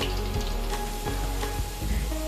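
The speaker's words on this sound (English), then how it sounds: "I have sufficient oil in the wok to fry potatoes." Cubes of medium potato frying in a batch of hot oil in a wok, a steady close sizzle with small crackles and bubbling, alone without talk.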